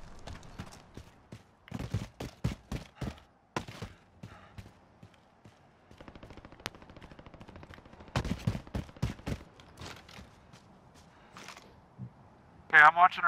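Gunfire in a multiplayer shooter video game: scattered clusters of sharp shots, some in quick bursts, sounding at a distance among quieter stretches, with a louder burst near the end.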